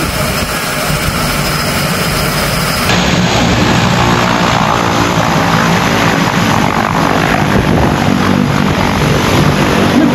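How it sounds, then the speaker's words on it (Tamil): A small turboprop plane takes off from a tiny airport in Fiji, its propeller engines roaring loud and steady, swelling slightly stronger partway through, with no voices. "ஒரு குட்டி டர்போ ப்ராப், அது என்ன ஏர் ஃப்ளைட்னு தெரியல, அதோட take off from one of the world smallest airport"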